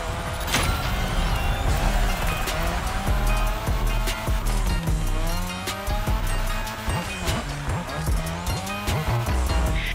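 A car drifting around the drift track in The Crew Motorfest, its engine droning and revving loudly and continuously, with scattered tire squeals and sharp bursts throughout.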